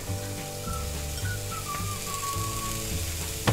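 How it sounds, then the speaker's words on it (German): Carrots fry in sunflower oil in a hot pan for a vegetarian Asian-style fried noodle dish, giving a steady crackling sizzle with faint pops and a soft clink near the end, and no one speaking. "Sobald die Pfanne heiß geworden ist, geben wir die Karotten rein."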